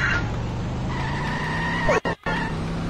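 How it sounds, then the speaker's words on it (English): A car in The Simpsons Hit & Run skids with a tire squeal and then crashes, all over a steady engine hum, with two sharp dropouts near the end. "Oh my gosh, I'm about to destroy this car."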